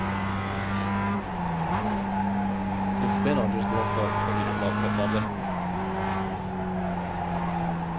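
Race car tires locking up and skidding in a Mazda Cup race at Charlotte Motor Speedway, a squeal riding over the steady engine drone with only brief pitch shifts.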